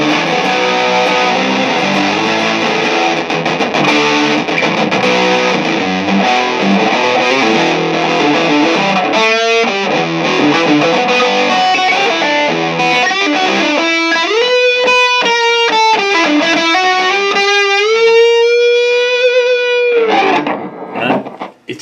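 Electric guitar played through a Pro Co Rat 2 distortion pedal, loud, crunchy, saturated chords, then sustained distorted single notes that ring out before cutting off.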